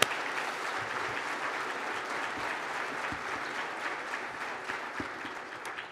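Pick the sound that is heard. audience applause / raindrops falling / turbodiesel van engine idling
audience applause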